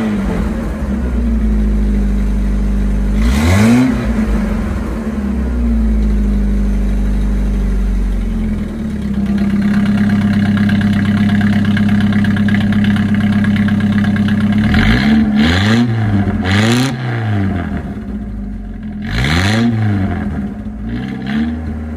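A 1969 Chevrolet Corvair with a custom side-pipe exhaust, dump closed, idles and then revs repeatedly, with loud throttle blips rising and falling several times close by and no talking.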